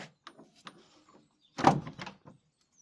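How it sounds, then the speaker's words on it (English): An old wooden door of a medieval 12th-century English church is opened. A few faint clicks lead into one louder latch clunk and scrape, followed by softer knocks, in a quiet space. "Let's go through this door."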